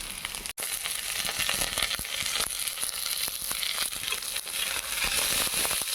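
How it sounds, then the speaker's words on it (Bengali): Slit green chillies frying with browned chopped onions in a pan, a dense, steady sizzle with scattered scraping stirs, close and continuous with no talking. "কাঁচা লঙ্কা চেরা দিয়ে কিছুক্ষণ নেড়ে চেড়ে নেব।"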